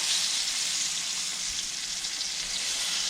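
Floured rainbow trout frying in a pan, a steady dense sizzle that holds at an even level from start to finish, close and fairly loud with no talking.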